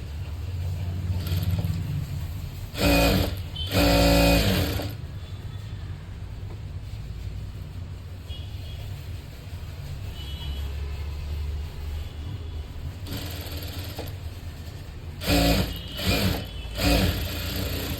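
A sewing machine stitches a strip for a blouse belt in several short runs of whirring motor noise, two early and a cluster near the end. Quiet room hum fills the long pauses between the runs.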